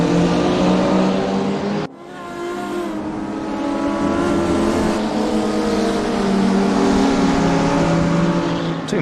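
Race cars roar around the track in a sim racing game, a dense, loud, continuous engine drone with rising and falling pitch as cars accelerate and pass, briefly cut off near the start before resuming.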